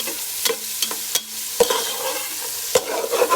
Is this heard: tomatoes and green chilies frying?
yes